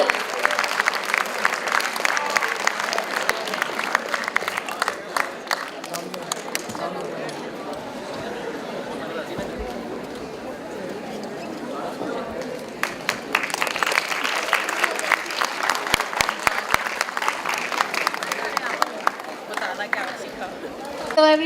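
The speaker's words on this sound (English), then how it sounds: "Let's give a big round of applause and welcome Mr." Audience applause at a college conference welcoming a speaker, sustained clapping that dips briefly in the middle and then swells again, heard at moderate distance with voices mixed in.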